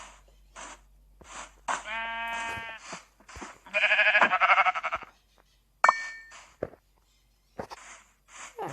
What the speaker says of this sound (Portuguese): Vou botar aquelas ovelhas, tá?